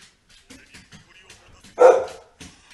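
A single short, sharp dog bark rings out close by, set against quiet background sounds of a mobile game's summons screen.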